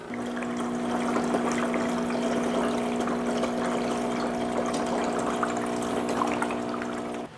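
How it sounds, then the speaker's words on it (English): A Breville Dual Boiler espresso machine pumps water to prime its boilers, giving a steady, continuous motor drone with a strong tonal hum and gurgling, trickling water throughout, close and constant with no talk. "it's going to take quite a bit of water to prime these boilers and the lines"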